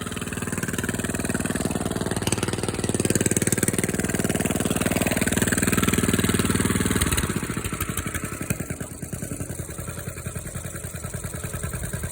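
An engine idles after a cold start following four days of sitting, a loud, close, steady rhythmic chugging that drops to a lower, more even idle partway through.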